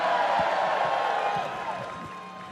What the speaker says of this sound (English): Round of applause for the sun.